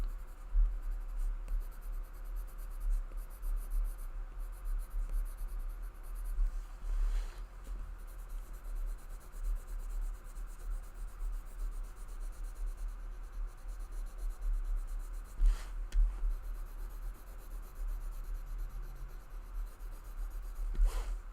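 Colored pencil scratching and rubbing steadily across paper, a continuous soft near-field scribbling texture for the whole stretch with small pauses and occasional louder strokes, no talk.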